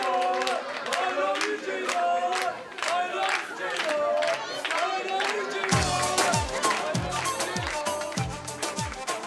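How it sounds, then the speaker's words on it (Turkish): Studio audience on a Turkish talk show bursting into sustained applause and cheering, a dense crowd roar with voices calling out over the clapping. "Ceylan Hanım'a bir alkış çıkacak kocaman."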